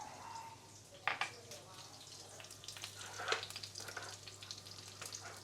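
Minced garlic sizzling and frying in hot pork lard in a pan, a steady crackling hiss with occasional stirring clatters, close by, with a voice faintly audible under it.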